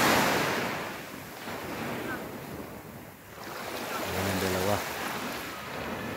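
Ocean waves wash onto a non-white-sand beach at dawn, a soft rolling surf hiss rising and falling with wind buffeting the microphone, fairly quiet and unbroken by talk.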